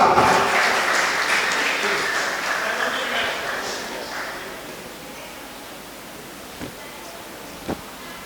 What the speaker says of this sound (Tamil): ஒரு பலத்த கைத்தட்டல்கள் வழங்கலாம்